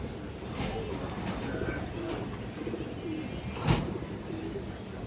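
Pigeons kept for sale, fancy and high-flyer breeds, coo softly at close range over steady background noise, with a brief louder bump near the end.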